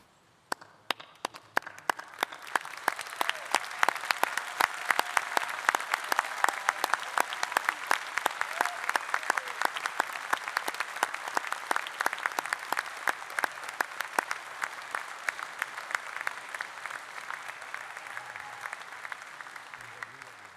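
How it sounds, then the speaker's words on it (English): Standing university graduates at a Swinburne graduation ceremony giving a big round of applause to family and friends, starting with scattered claps that swell into a long dense ovation before tapering slightly toward the end. "join me in a huge round of applause to say thank you"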